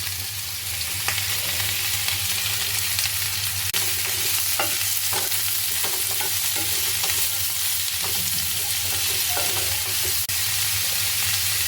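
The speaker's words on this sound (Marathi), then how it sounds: "गोडे तेल गरम झालेलं आहे आपण त्यामध्ये आपण जो वा काप केलेले आहेत कांद्याचे ते सर्व घालणार आहोत आणि ह्याला चांगलं भाजणार आहोत" Sliced onions fry in hot groundnut oil, a steady loud sizzle running throughout with occasional scraping stir strokes, no voices.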